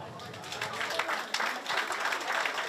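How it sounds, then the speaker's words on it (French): An audience at a chocolate festival chef's demonstration claps steadily for a few seconds, a dense patter of hands with a voice faintly mixed in. "On peut l'applaudir."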